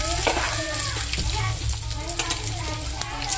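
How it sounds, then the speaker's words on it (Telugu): Tempering spices crackle and sizzle in hot oil in a pan while pulihora is being made, a continuous close frying hiss with occasional stirring clinks. "ఇందులోనికి మనం పోపులు కూడా యాడ్ చేసుకుందాం"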